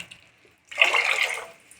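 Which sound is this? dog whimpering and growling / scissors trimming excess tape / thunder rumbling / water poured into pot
water poured into pot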